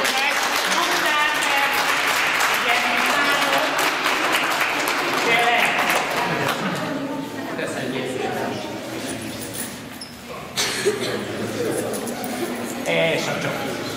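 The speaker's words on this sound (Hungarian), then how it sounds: "tapsoljuk meg" An audience claps for a girls' team at a Hungarian youth football event, a loud sustained wash of applause at first that gradually thins into scattered claps and murmuring chatter.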